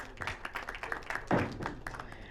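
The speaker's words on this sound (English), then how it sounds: "Please welcome her with a huge round of applause" Brief clapping from an audience welcoming a speaker onto a keynote panel, a short burst of scattered handclaps at moderate volume.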